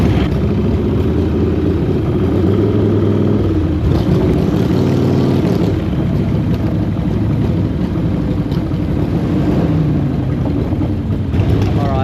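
Old Harley-Davidson motorcycle riding through the Peak District while running rough, a steady loud engine drone with wind rush throughout, swelling slightly as it pulls, no pauses.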